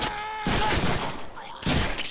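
Gunfire in a Deadpool video game comes as two loud, dense bursts of rapid shots with a short gap between them, close and harsh over game sound.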